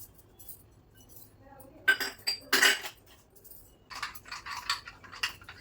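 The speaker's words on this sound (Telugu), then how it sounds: "ఇదంతా కలిపేసుకుందాం" A spoon scrapes and clinks against a steel bowl while mixing a mustard yogurt chutney, several bright metallic knocks in uneven bursts with quiet pauses between, and no talking.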